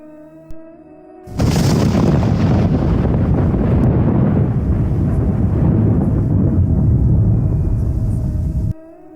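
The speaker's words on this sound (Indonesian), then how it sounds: "Suara petir mengejutkanku." A sudden heavy roll of thunder bursts in after a quiet moment, a loud rumbling boom that stays strong for several seconds before cutting off.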